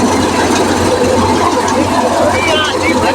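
A tractor engine runs on a wheat farm, a loud, constant low rumble filling the whole stretch, with people talking over it.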